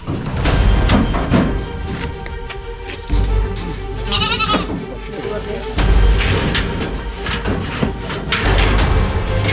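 A goat inside a tiger trap cage set in a Sumatran forest area bleats repeatedly, loud and close, mixed with heavy rumbling handling and knocking noises and a person speaking.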